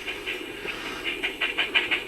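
Rhythmic hissing chuffs from a sound-fitted Bachmann OO9 model Baldwin steam locomotive, repeating quickly and growing louder and faster, close by with a steady mechanical background.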